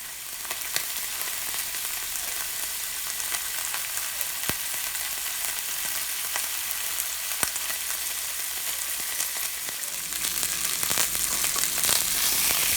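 Beef braciole rolls sear in a hot pan, giving a steady, dense sizzle across the whole stretch, with a few sharp crackles and pops and a slight swell in intensity near the end.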